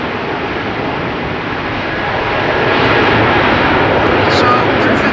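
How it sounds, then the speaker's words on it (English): A KLM Airbus A321 jet heads out from rainy Schiphol, its engines a loud, broad roar that builds stronger in the second half, with faint voices behind the noise. "That's an A321 rental by KLM going to Madrid."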